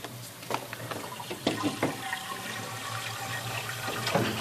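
Sugar and water mixture poured into a freezing machine, a steady liquid wash with gurgling splashes and a few clunks, continuous and fairly close, with no talk.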